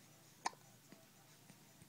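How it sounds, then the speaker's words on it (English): A baby hiccups once, a sharp close burst early on, followed by a few much fainter hiccup-like catches over a quiet room background. "Smile through your hiccups."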